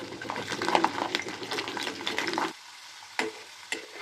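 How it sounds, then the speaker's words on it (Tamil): Peeled garlic fries in oil over low heat, a busy close sizzle with stirring scrapes that drops away abruptly partway through, leaving only a few scattered taps. "முதல்ல இந்த தோல் உரிச்ச பூண்டை சேர்த்து வறுத்து எடுத்துக்கலாம்."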